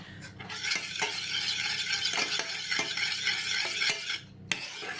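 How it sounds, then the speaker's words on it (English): A steady bubbling, sizzling simmer of a sweet glaze for hot cross buns boiling in a pan, with occasional clinks of a spoon stirring, close and continuous. "So I'm just boiling this up now."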